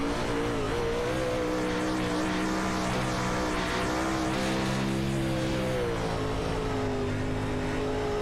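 Onboard engine of a Tanner Pettit race car at Knoxville Raceway in a sim racing game, a loud, sustained high-revving drone that shifts in pitch as the throttle rises and falls, close-miked with no voices.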